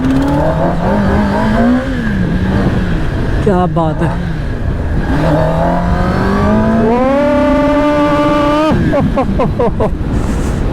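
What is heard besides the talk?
Kawasaki ZX-10R superbike accelerating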